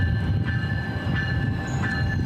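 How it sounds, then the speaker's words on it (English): A GO Transit passenger train arriving at Stratford rumbles steadily with a low rolling roar and faint wheel squeal tones, loud and close throughout with no voices. "GO trains arrived in Stratford yesterday for the first time in years."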